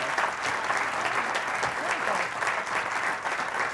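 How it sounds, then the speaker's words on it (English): An audience at a forum on right to counsel in housing eviction cases applauds the panelists, with dense, steady clapping filling the room for several seconds. "Please give our panelists a big round of applause"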